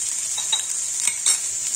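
Pea curry being stirred in a pan, with a steady bright sizzle and a few light scrapes of a utensil against the metal, close and continuous.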